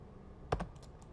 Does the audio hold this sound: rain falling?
no